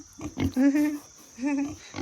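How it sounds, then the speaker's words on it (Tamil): Young piglets, handled by hand along a roadside trek toward Mount Everest, give two close, drawn-out squeals separated by a short pause, with faint handling noise between them. "இது வரைக்கும் நான் பன்றி குட்டிகளை தொட்டதே இல்லை."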